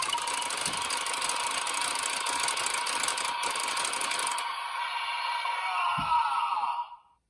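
Whirring, rattling gatling-spin effect from a DX Geartlinger toy blaster as its handle is cranked with the trigger held, a steady loud mechanical drone that cuts off abruptly near the end.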